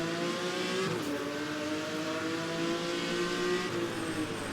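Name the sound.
Jaguar race car engine driving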